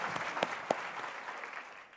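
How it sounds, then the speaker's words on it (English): Steady audience applause at a healthcare technology conference, fairly distant and even, with two sharper claps standing out early and a gentle fade at the end. "Please give him a round of applause"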